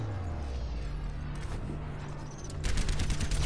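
Soldier 76 fires his helix rockets in Overwatch amid a rattle of gunfire. A steady burst of shots gives way to sharper, louder blasts near the end over a low game hum.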